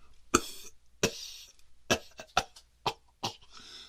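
A man gives a series of about seven dry, breathy coughs at close range, spaced unevenly over a few seconds with quiet gaps between them and no talking.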